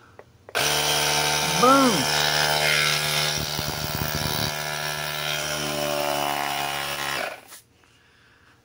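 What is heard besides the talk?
AUXITO jump starter air compressor running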